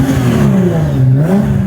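Nissan GT-R R35 with an Fi exhaust, valves open, revving loudly and close up in one continuous rising and falling engine roar with a deep rumbling tone.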